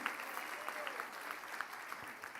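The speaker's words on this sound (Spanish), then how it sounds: "Dale un aplauso más fuerte a Jesús." Applause at a church gathering celebrating Jesus, a faint, distant wash of clapping from a congregation that holds steady throughout the short stretch without a clear peak.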